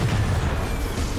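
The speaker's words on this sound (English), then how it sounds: "We almost ran into that explosion not too long ago." Explosion in the video game Death Stranding: a dense, rumbling blast of low noise that fills the moment at steady loudness, with no voices over it.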